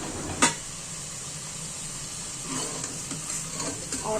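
Beef curry with spices frying in a pot gives a steady, fairly quiet sizzle and hiss, with a sharp clink near the start and a few soft stirring scrapes later.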